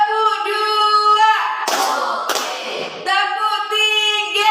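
A group claps in unison in a classroom counseling session, a short burst of hand claps between stretches of a voice calling out instructions.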